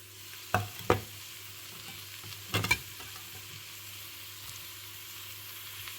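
Onions with salt fry quietly in a pan while cooking a chicken roast; a soft, steady sizzle runs throughout, broken by a few short scraping stirs near the start and again midway.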